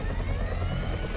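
Helicopter in the video game GTA V: a brief, steady rotor and turbine drone with a whining engine tone, fairly loud and continuous, no speech.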